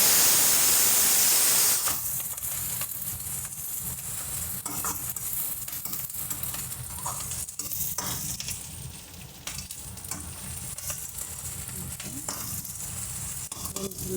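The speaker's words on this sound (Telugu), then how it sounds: "ఉల్లిపాయలు కూడా సగం వేగాయి. కొంచెం అల్లం వెల్లుల్లి పేస్ట్" Half-cooked onions with a spoonful of ginger-garlic paste sizzle steadily in a pan, with a continuous frying hiss and soft stirring scrapes throughout, close and moderately loud.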